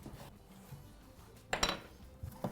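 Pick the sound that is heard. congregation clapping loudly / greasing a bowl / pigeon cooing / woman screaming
greasing a bowl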